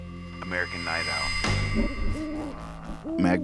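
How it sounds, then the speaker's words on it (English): Owl hoots come through as a series of wavering, voice-like calls over a busy musical background, close and fairly loud. "Owl."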